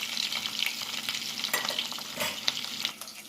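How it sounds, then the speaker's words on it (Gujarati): Potato pieces shallow fry in oil with a close, continuous crackling sizzle, broken by scattered pops and stirring scrapes. "હવે થોડીક વાર એને લાલ થાય ત્યાં સુધી એને સેલો ફ્રાય કરીશું"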